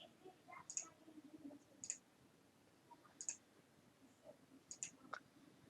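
Crisp computer mouse clicks, about five sharp single or double clicks spaced a second or so apart, close and quiet against faint background noise, with no talking.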